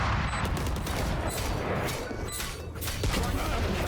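Gunfire from an Outlaw sniper rifle in the tactical shooter game Valorant, with dense, sustained loud shots and crashing impacts filling the whole stretch, busy and continuous rather than isolated.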